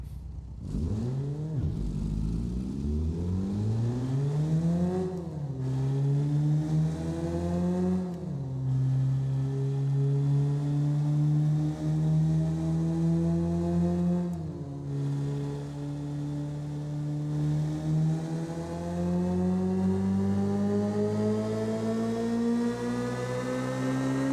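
A low rider burnout car engine from the BeamNG.Drive driving game, revved hard and held at its rev limiter, a loud steady buzzing drone that climbs in pitch repeatedly and falls back briefly between pulls.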